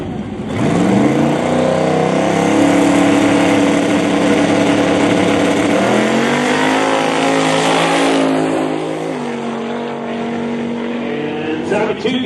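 Radio class no-prep drag racing cars launch and scream down the strip, one loud engine revving up through the gears with rising pitch, then easing off as it travels away, with an announcer talking over it.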